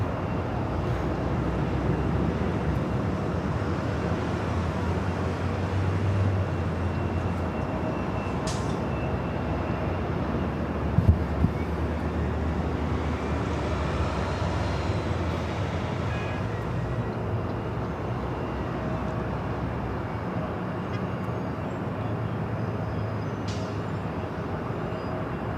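A jet airliner takes off from runway 24 left at LAX, a broad, steady roar of engines that holds loud and continuous for the whole stretch, with a faint rumbling undertone and no talking.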